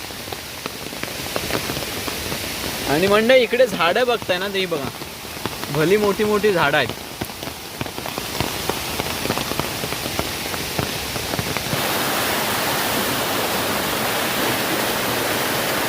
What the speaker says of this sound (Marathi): पाऊस पण नेमका आलाय